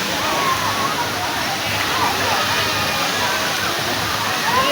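A mountain stream rushes over rocks in a continuous close wash of water noise, with people talking over it.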